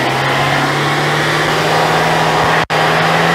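A car engine runs steadily at raised RPM during a battery system test, with the air conditioner and radio on, a loud constant mid-pitched drone with a brief dropout near the end.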